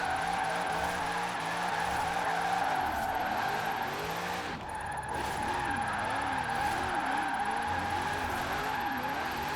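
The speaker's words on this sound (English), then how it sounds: "I wanted to see if I could actually use 5th gear to slide." A 1,000-horsepower Corvette drifting in the racing game Forza Horizon 4, held in a high gear, its engine droning steadily while the tires squeal and warble continuously through a long slide, loud and close.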